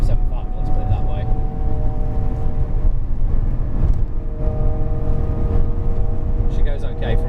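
A Jaguar XJR575 long-wheelbase limousine with 575 horsepower, driven up a mountain road, its engine giving a steady low rumble from inside the cabin, with someone talking over it.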